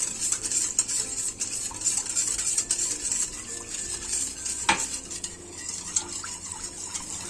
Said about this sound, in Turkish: süte yavaş yavaş bir bardakta şekerimi hem karıştırıyorum hem ilave ediyorum